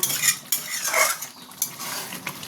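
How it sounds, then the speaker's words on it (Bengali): Chicken keema being stirred with a utensil in a pan: repeated scraping and clinking strokes against metal over a faint sizzle, close and steady, with no voices. "এটা দিয়ে ভালো করে আমি নাড়িয়ে দেবো।"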